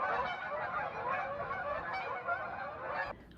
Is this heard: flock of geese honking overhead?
yes